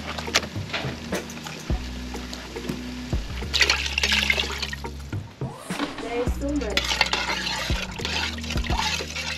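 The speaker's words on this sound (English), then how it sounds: "So you add in water in the sauce." Water is poured into a fish sauce of blended onion, ginger and garlic during outdoor village cooking, with intermittent pouring and sloshing under a speaking voice and background noise.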